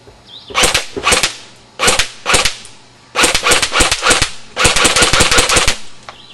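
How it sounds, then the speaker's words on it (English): A JG AK-47 airsoft rifle fires sharp semi-auto shots at a target, single cracks and quick bursts in irregular groups, loud and close with no voices. "we'll take a few shots of that target on semi"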